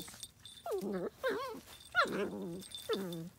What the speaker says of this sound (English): these play sounds are okay. That's like little playful growl whine sounds.